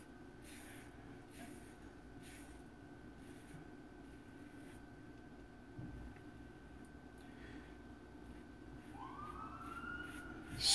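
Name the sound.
ambulance sirens in the distance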